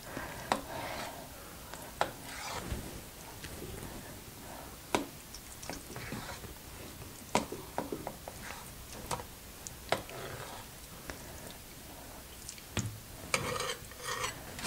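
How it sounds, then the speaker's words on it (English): Tofu cubes browning in olive oil in a fairly hot skillet give a soft, continuous sizzle, dotted with sharp clicks and taps as pieces are moved around. "I'm going to brown the tofu in olive oil"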